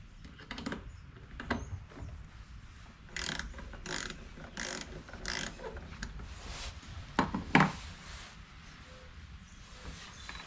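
Small metal parts clink and ratchet as rusty washers are worked off a cheap ATV winch, a series of short irregular clicks and scrapes, close and moderately quiet with a few sharper knocks.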